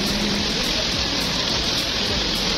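Steady, dense rainfall hisses without a break, loud and close, with no voices over it.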